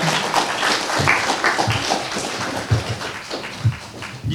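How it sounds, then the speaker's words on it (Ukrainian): Applause from an audience at a city day ceremony in Kremenchuk, a steady patter of many hands clapping with some sharper individual claps standing out, moderately close. "Аплодисменти."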